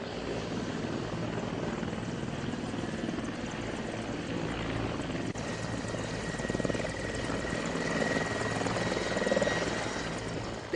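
A helicopter flies overhead with a steady, loud rotor and engine roar that fills the scene alone, without voices, swelling slightly toward the end.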